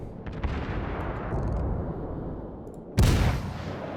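Warship guns booming in the naval combat game World of Warships, with a long rumbling roar of fire and then a sharp, loud blast near the end. No one speaks.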